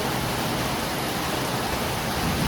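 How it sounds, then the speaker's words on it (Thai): Steady dense hiss of heavy rain drumming on a corrugated zinc sheet roof, continuous and even throughout with no voices. "โอ้ยฝนตกแห้งได้ยินแต่เสียงสังกะสี"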